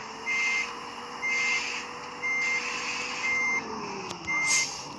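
A bus in a driving video game sounds its reversing alarm: five evenly spaced electronic beeps over a low, steady engine hum, clear and fairly near.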